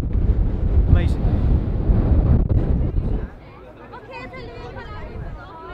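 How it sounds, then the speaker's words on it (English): Strong wind buffets the microphone on a French beach by a German bunker as sand blows, loud rushing gusts that ease into a quieter, breezy hiss. "The grains of sand are amazing blowing in the wind."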